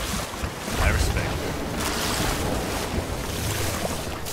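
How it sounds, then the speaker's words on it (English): Ocean waves in a video game wash and crash continuously with wind noise, a loud, broad surging roar with swells rising and falling. "Oh my god, waves."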